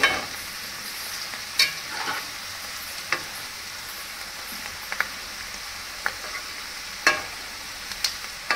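Chickpea pakoras frying in hot oil with curry leaves and chillies: a steady, close sizzle broken by sharp clinks and scrapes of stirring every second or so, with no voices.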